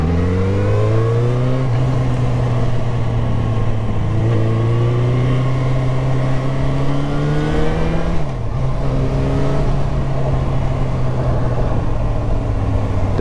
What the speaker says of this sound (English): The engine sounds mad.